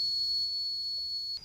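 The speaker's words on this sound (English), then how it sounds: "This is a dog whistle. They make a high-pitched sound, including some sounds that humans can't even hear." A dog whistle sounds one steady, thin, piercing high-pitched tone, held alone for over a second before it abruptly stops.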